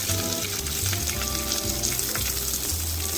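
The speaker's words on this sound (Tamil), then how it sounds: "இதோட வெட்டி வச்ச வெங்காயத்தை சேர்க்குறேன்" Chopped onions hit hot oil already crackling with mustard seeds and curry leaves, giving a loud, steady close sizzle throughout with a faint watery hiss and no voices.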